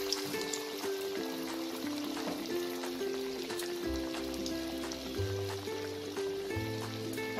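Medu vada batter fries in very hot oil with a constant close crackling sizzle like light rain, accompanied by soft steady tonal sounds in the background.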